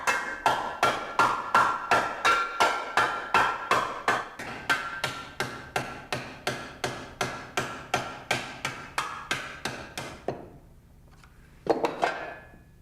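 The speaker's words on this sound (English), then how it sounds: "The metal is then hammered from the center outward in concentric circles" A copper sheet is hand-hammered into a box, struck from the center outward in concentric circles, giving about two dozen sharp, evenly spaced metallic blows. A pause follows, then a last strike.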